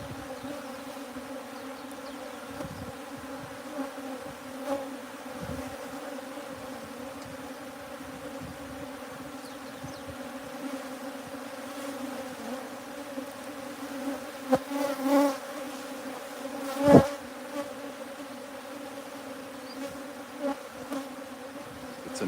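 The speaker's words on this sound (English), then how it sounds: "A swarm, nice big swarm." A large honeybee colony swarms at a hive box in a bee sanctuary, giving a steady, dense buzz that holds throughout with a few louder passes of bees flying close by.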